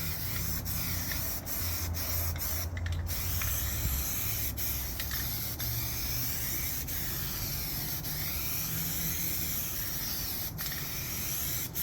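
Primer sprayed in light, steady coats onto an FMS 1500mm P47 Bonnie foam model plane outdoors. A continuous soft hiss with faint clicks, close by and with no talk.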